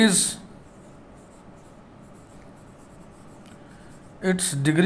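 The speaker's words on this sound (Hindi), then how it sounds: "अब इसके बारे में सूचना लिख दीजिए।" Faint, steady scratching of writing on a board during a mathematics lecture on differential equations, continuing for several seconds between brief bursts of a man's speech at the start and end.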